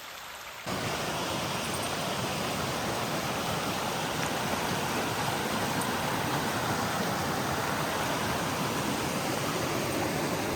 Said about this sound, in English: This is a cute little creek with a tiny, tiny waterfall.